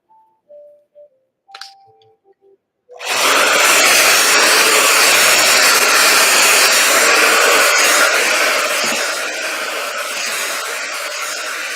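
A few faint clicks and beeps sound before a hair dryer switches on with a loud, steady roar for blow-drying coily curly hair, running continuously up close.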